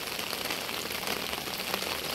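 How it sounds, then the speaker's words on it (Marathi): Heavy rain pours steadily over flooded fields in a village, a dense, continuous hiss close by with no voices and no let-up. "असा पाऊस चालू आहे इकडे"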